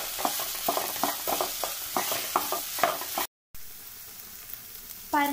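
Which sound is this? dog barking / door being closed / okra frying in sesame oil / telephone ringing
okra frying in sesame oil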